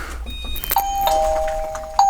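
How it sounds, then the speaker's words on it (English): Chime of a Victure VD300 video doorbell sounds indoors as a clear electronic tone, struck once and then again about a second later, with nobody talking. "So there's the chime."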